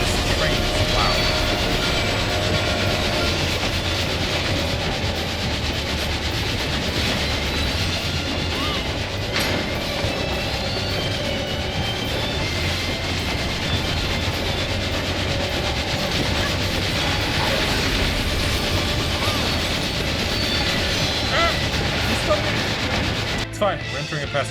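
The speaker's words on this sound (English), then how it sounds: "Man, this train is loud." A loud, continuous video game train rumble with rhythmic rattling and clacking fills the clip, with a voice talking faintly beneath it.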